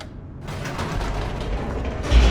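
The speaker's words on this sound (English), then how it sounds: "The elevator raced downward" Elevator racing downward in The Stanley Parable, a loud continuous mechanical rumble and creaking rattle, close and steady, swelling slightly at the end.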